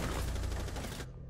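Rapid automatic gunfire in Rainbow Six Siege, likely an AK-style rifle, sounds as a dense, loud burst of shots that stops abruptly after about a second, with no talking.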